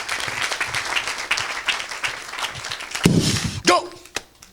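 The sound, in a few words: congregation applauding and cheering the Lord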